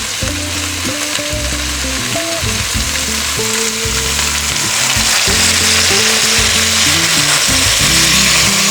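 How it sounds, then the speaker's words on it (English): Vegetable broth poured from a bottle into a hot pot, setting off a loud, steady sizzle and bubbling that builds slightly toward the end, with a harmonic tonal hum running underneath and no talk. "go ahead and add the whole bottle of vegetable broth."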